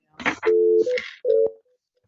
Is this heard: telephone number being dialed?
yes